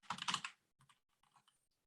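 Computer keyboard typing heard up close: a dense burst of rapid keystrokes followed by a few scattered, softer taps, fairly quiet, with no talking.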